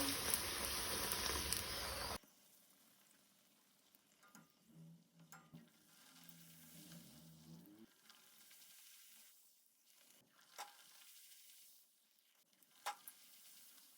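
Puris frying in hot oil for a Goan potato bhaji meal: a loud, dense sizzle for the first two seconds, then it cuts away to faint, quiet kitchen sounds with soft scattered clicks.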